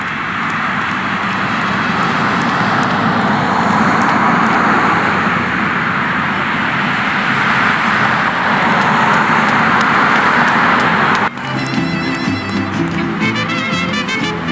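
Freeway traffic in the video game Grim Fandango Remastered makes a dense, steady roar of passing vehicles that holds for about eleven seconds before the sound scene abruptly changes.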